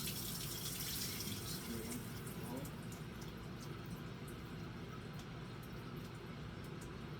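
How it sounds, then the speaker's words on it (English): Hot cooking water poured off spaghetti into a strainer bowl in a kitchen, a steady close splashing gush that gradually settles into a softer trickle. "I'm gonna go ahead and remove the water of the spaghetti"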